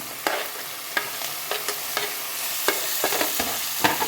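Tomatoes frying in a pan with ginger garlic paste for a spicy kuruma, a steady low sizzle broken by frequent sharp scrapes and clinks of a spoon stirring, close and moderately loud, with no talking.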